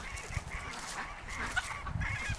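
Farm poultry heard across the yard, with goose-like honks and fowl calls in repeated bursts over a low, steady background, moderately distant and with no talk.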